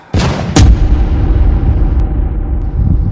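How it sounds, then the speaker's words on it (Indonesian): Two sharp blasts go off in quick succession, followed by a deep, rumbling roar that lingers and slowly fades. "Suara ledakan, buar."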